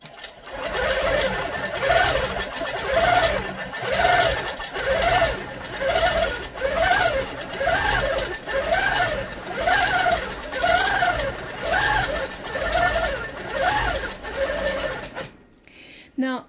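A quilting sewing machine stitches in regulated mode with a fast, continuous mechanical whir that swells and eases in a steady rhythm for many seconds, close and loud, before stopping abruptly.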